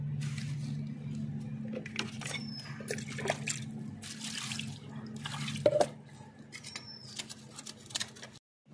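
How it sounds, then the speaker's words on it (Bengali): A Rupchanda fish is washed under running water in a kitchen, with splashes, drips and handling clatter over a steady low hum, ending abruptly. "ধুয়ে নেব মাছ"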